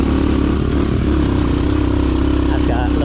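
A mini trail bike with a Kawasaki Ninja engine runs loud and close, a buzzing steady engine note with slight revving, while a person talks over it.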